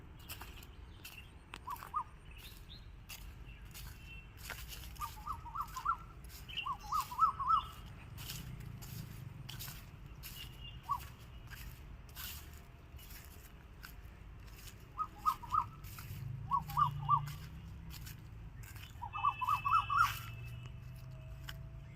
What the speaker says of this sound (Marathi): कोकिळचा आवाज ऐका तुम्ही